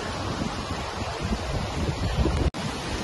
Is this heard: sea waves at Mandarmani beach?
yes